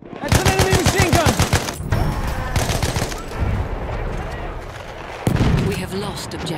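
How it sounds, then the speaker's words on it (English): Close, rapid machine gun fire in a battlefield video game rattles in fast bursts, loudest at the start and again near the end, with explosions, game noise and a voice mixed in. "That's an enemy machine gun!"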